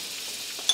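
Flour being stirred into beef grease and butter in a pan to start a roux, a soft, steady sizzle and hiss with a faint scrape near the end, close and alone.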